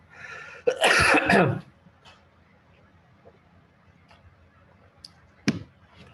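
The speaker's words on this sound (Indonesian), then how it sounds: "Batuk pula." One person gives a short burst of harsh coughing or throat clearing, then goes quiet with a few faint clicks. A sharper single cough-like sound comes near the end, close and fairly clear.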